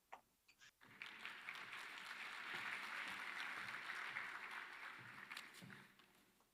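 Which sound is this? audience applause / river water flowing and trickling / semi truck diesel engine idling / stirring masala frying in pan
audience applause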